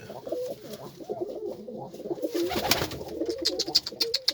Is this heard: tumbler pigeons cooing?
yes